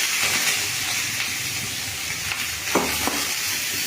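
Chopped tomatoes sautéing in hot oil for tomato sambar give off a dense, continuous hissing sizzle, close and even, with a couple of brief stirring scrapes near the end.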